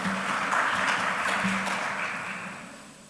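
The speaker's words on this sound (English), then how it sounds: "Let's welcome him with a round of applause." Audience applause at a conference on trade and economic transformation, a dense steady wash of clapping from a crowd that gradually fades toward the end.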